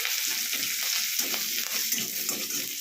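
Spice tempering with two chopped dried chillies sizzles in hot oil for dai begun, a steady, close, loud crackle and hiss with faint stirring running throughout.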